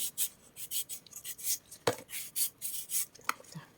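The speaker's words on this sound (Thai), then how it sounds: "สับก่อนจ้า" A knife chops ingredients on a board while preparing a Thai pounded cucumber salad to serve with rice noodles: quick, evenly spaced chops, about a dozen strokes, close and fairly quiet, with no talking.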